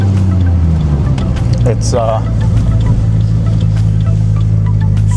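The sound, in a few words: car with Turbo 400 transmission being driven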